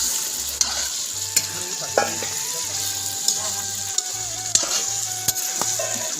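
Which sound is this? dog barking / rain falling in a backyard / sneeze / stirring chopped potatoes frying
stirring chopped potatoes frying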